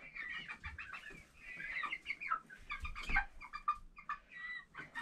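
Backyard chickens cluck and squawk in short, close bursts during a night move, a busy run of calls with no talking.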